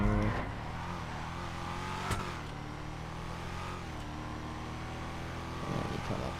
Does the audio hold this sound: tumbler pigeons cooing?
no